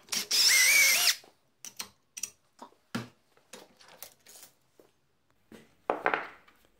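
A power drill bores a hole for a camera monopod thread with one short, high whirring burst, followed by a string of brief clicks, knocks and small scrapes nearby, then a final rasping burst.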